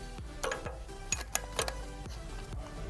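A ratchet loosens a 12mm bolt on a 2011 Toyota Prius during EGR valve and cooler replacement, a close run of sharp clicks and metallic ticks in irregular bursts.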